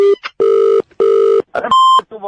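A few loud, close telephone tones: repeated steady beeps with short gaps, then a higher tone, like a phone line signaling.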